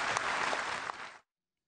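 An audience applauds a retiring Joint Chiefs chairman at a ceremony with steady, dense clapping that runs just over a second and then cuts off abruptly into silence.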